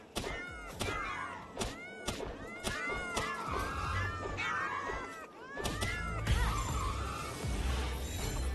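Repeated meow sound effects from a sword in the video game Palworld, several short rising-falling cries in quick succession over busy game action noise with thuds and crashes.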